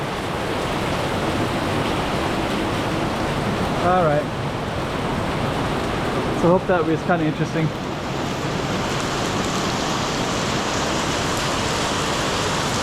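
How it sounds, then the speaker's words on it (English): Heavy rain pours steadily in a narrow alley in Macau, a dense, constant hiss close around, with someone briefly talking over it. "Way too much rain."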